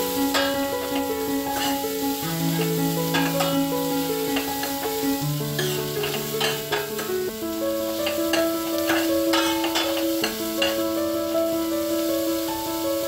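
Chopped cabbage, cauliflower and peas are stirred in a hot pan for chicken soup, a close, steady sizzle with scraping strokes, heard under continuous melodic background music.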